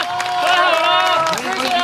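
Audience applause and cheering for a Taiwanese traditional performing arts troupe at an outdoor night stage in front of a temple gate, a loud steady wash of clapping with voices mixed in.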